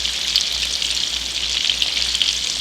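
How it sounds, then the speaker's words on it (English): Loud, steady sizzling and crackling of a batch of chicken deep frying in hot oil, continuous and close. "let each batch of chicken fry for about 3 or 4 minutes"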